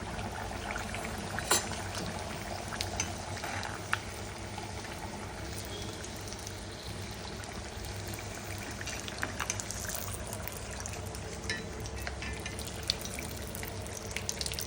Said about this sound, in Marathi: तर हे मंद आचेवर आपल्याला फ्राय करायचे आहेत